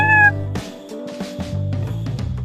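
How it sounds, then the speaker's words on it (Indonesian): A short, bright cat meow at the very start, followed by a low steady hum with scattered clicks and thumps. "Kucing biasanya menyapa orang atau mengumumkan kehadirannya dengan suara pendek."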